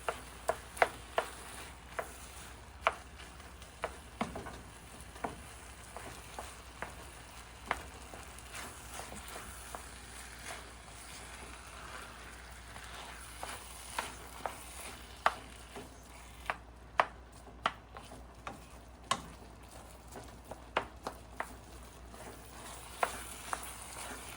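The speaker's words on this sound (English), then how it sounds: "I just kind of stir fry this up" Chicken curry is stir-fried in a pan with a quiet, continuous sizzle, punctuated throughout by sharp, irregular taps and scrapes of a utensil against the pan.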